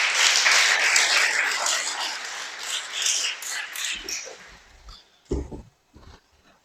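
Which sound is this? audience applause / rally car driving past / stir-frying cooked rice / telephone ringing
audience applause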